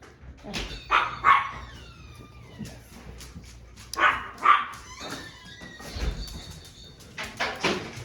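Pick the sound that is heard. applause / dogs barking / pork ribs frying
dogs barking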